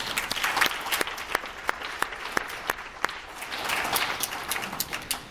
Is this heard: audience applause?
yes